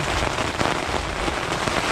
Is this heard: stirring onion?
no